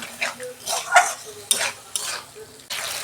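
Tomato and ginger-garlic paste being sautéed for a chicken curry, with a spoon scraping and stirring through the pan in repeated bursts and a soft sizzle underneath, close and fairly quiet.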